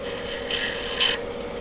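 Two short rasping strokes of sandpaper on wood, scratchy and close, separated by a brief pause over a faint background hum.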